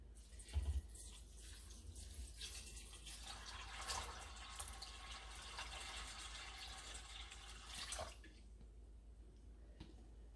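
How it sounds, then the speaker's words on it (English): Water pours steadily over beans for several seconds, a close, rushing splash with a few brief clinks, no voices. "You're going to cover the beans again with about 1 to 2 inches of water."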